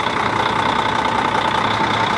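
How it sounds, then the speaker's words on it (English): An RV's engine idles with a steady, even rumble close by, its tone holding constant throughout with no voices over it. "Well, engines are rumbling."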